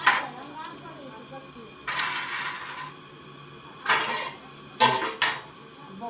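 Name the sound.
soaked rice being added to a hot pot for pulao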